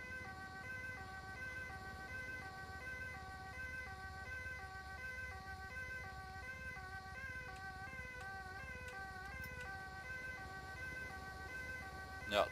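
A two-tone ambulance siren in the video game GTA 5 wails back and forth steadily, alternating high and low pitches over a low rumble, with a brief thump at the end.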